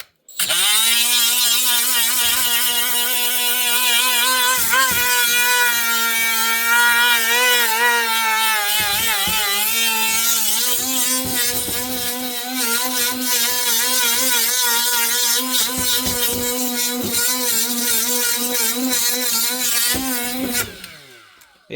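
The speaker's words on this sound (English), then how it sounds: "But yeah, this little grinder." Small handheld grinder running on Farmall 560 tractor brake parts, a loud steady whine with shifting pitch as it bites and eases off the metal, lasting about twenty seconds before cutting off.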